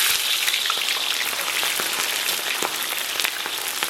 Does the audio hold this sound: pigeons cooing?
no